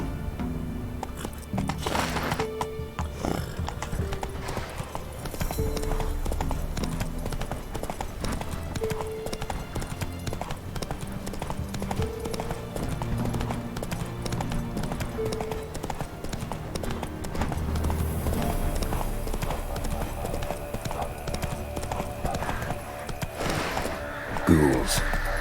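Roach the horse trots in The Witcher 3, with a steady rhythmic clip-clop of hooves under game music and ambient sound. Someone talks over the hoofbeats at points.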